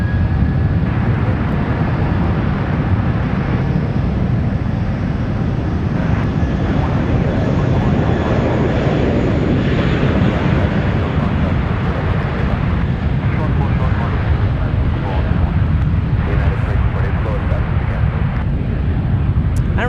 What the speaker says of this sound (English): an A320 United Airlines taking off on one right